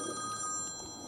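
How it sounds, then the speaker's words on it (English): A telephone rings in a workshop where a fuel tank swap is underway, a steady, fairly faint electronic trill heard alone, continuous through the short stretch. "But let me get that phone, I'll get back to you."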